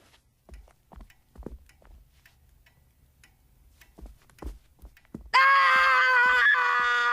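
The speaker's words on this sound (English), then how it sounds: "You tell me what you're screaming about this instant!" A child in an animated Secret Garden film is heard: soft ticking and faint thumps give way to a sudden, loud, sustained high-pitched scream that runs to the end.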